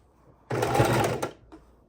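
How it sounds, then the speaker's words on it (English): A sewing machine stitching paper ruffles onto a junk journal cover runs in one steady, loud, close burst of about three-quarters of a second, then stops, followed by a faint brief knock. "Whoops, and I just sewed another ruffle."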